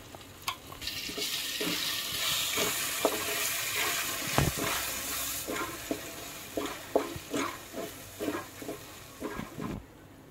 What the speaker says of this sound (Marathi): काजू आणि कांद्याची बनवलेली पेस्ट ही थोडीशी भाजून घ्यायची आहे